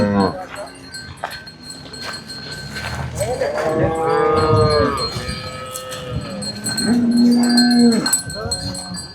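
Cows at a cattle market give several long, loud moos near by, with one deep low call toward the end, over a busy background with people talking.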